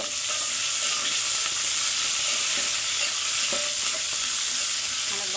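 Vegetable rice with mint stirs in a hot pan, a continuous close sizzle and frying hiss with scraping stir strokes and no talking.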